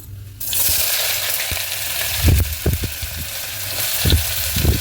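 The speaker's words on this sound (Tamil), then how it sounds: "இப்போ வந்துட்டு எண்ணெய் ஊற்றியாச்சு. பட்டை, லவங்கம், அன்னாச்சி பூ இது எல்லாமே போட்டுக்கலாம்." Cinnamon, clove and star anise fry in hot oil for a mutton gravy, giving a loud, close, steady sizzle broken by a few low thumps and clinks from the pan.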